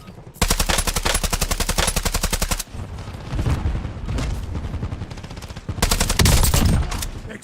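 Sustained automatic gunfire from Call of Duty Warzone, a loud rapid burst up front, then rumbling battle noise, with another heavy rattling burst near the end.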